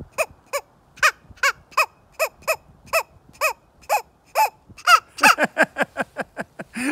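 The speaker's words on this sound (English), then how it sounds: "Believe it or not, that is a squirrel call." A hand-operated squirrel call, shown in a first-grade sound lesson, repeats nasal, honking chirps in a steady rhythm, then speeds up into a faster, louder burst near the end, with no voices.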